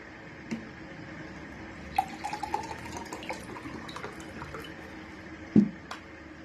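Water poured and trickling into a container for a sugar and Tang powder drink, soft splashing and drips with a few sharper clinks, fairly quiet and close.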